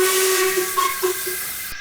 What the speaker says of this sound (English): they heard the whistle again